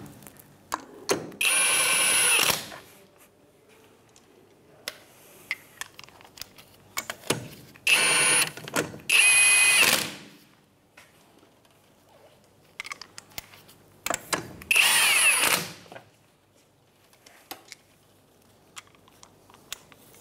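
A power tool with a 17 mm socket runs on the lug nuts of a 2007-2013 Mitsubishi Outlander rear wheel in three loud, short bursts of whirring, separated by quieter clicks and handling noises.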